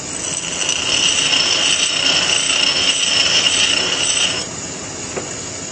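A drill bit sharpener grinds the flute of a small drill bit, a steady high-pitched whine lasting about four seconds before it cuts off into a quieter hum.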